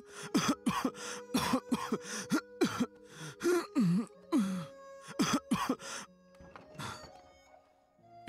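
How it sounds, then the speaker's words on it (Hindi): A person coughing repeatedly in harsh, rapid fits with short raspy breaths between bursts, close and fairly loud. "पिताजी की खांसी बढ़ती जा रही है।"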